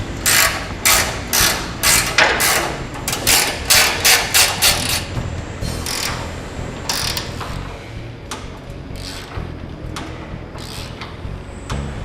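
Bolts being tightened on the rear bar brackets of a 100 or 105 Series Landcruiser: rapid ratcheting clicks in bursts, close and loud, easing into lighter intermittent clicks and metallic knocks.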